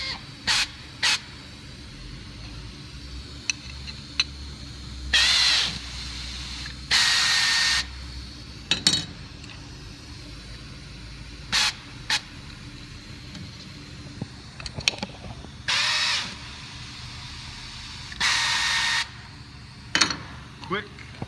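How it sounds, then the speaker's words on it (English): A Cardinal Components spin tool installing Plusnut fasteners gives several short bursts of hissing, spraying noise, each lasting about a second, spaced irregularly over a quiet background with faint clicks. "have the spin tool from Cardinal Components, Plusnut fasteners"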